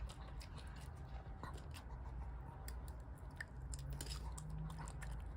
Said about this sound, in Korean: 맛을 음미하면서 먹어봐 하루